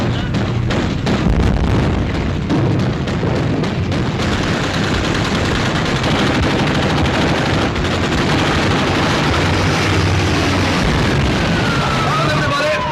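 A warship's guns opening fire in a wartime naval battle, heavy continuous volleys of machine-gun and cannon fire booming over engine noise with shouted commands mixed in.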